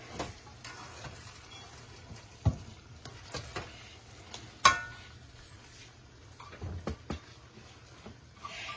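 Sticky rice in a pot for a Puerto Rican dish being mixed, with irregular scrapes and knocks of the spoon over a soft sizzle, a few louder clacks among them.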